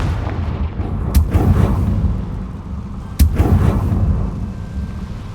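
Two sharp Confringo blasting-spell explosions from the Hogwarts Legacy video game, about two seconds apart, each a loud crack trailing into a booming rumble over a steady low background roar.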